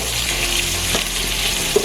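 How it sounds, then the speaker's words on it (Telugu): Sliced onions fry in a pan for a veg dum biryani, giving a close, steady sizzle with faint stirring scrapes and one brief clink near the end. "ఇవి మనకి ఫ్రై అవుతూ ఉంటాయండి."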